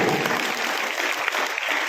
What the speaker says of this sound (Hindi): फिर से एक बार जोरदार तालियां हो जाए इस बच्चे के लिए